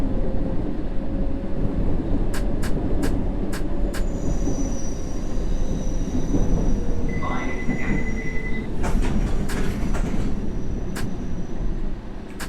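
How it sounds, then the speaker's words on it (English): A subway train in the video game World of Subways, on the Circle Line, runs along the track with a loud, continuous rolling rumble, rhythmic wheel clicks over rail joints and occasional high squeals, with no speech. "As long as no other train is on the same track, we'll be fine."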